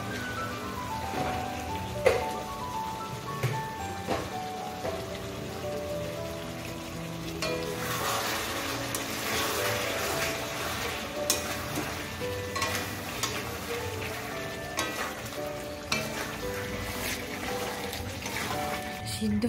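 Cumin seeds frying in hot oil in a pan, a steady close sizzle with crackling pops running throughout, swelling louder in the middle with occasional clinks of stirring.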